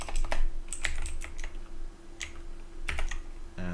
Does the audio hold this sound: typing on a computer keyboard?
yes